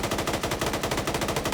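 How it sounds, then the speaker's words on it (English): Rapid automatic gunfire from a PvP shooter game fires in a steady, fast rhythm of loud, evenly spaced shots. It sounds close and continuous, with no talking over it. "trying to hone in on those gunshots"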